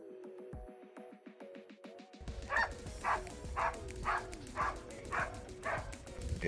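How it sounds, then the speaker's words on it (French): Several dogs bark in a rapid rhythmic series at first, then the barking fades under a vehicle's engine and road rumble on a morning drive, with faint voices. "Les chiens sont motivés ce matin."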